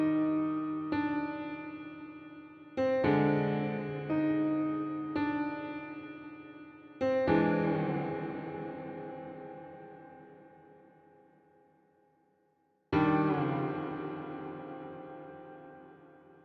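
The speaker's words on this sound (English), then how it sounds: "So here's the piece from the game." Eerie music piece from the horror video game IMSCARED, a sparse instrumental line whose notes strike and slowly decay in separate phrases, ending with a long ringing fade and one final struck chord.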